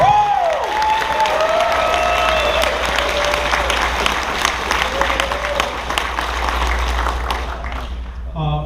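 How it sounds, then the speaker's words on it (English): Convention audience applauding at the closing ceremony of Megaplex XVII 2018, a dense, steady wash of clapping with some cheering that fills the whole stretch, with a voice and faint tones over it early on. "big round of applause"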